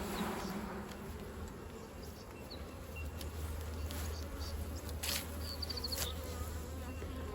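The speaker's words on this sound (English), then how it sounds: "I'm going to shake the bees off and show you that" Honey bees buzz in a dense, steady hum close by as they are shaken off a frame of pollen and honey, with a few louder individual bees passing near.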